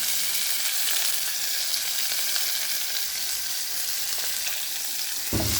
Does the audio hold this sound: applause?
no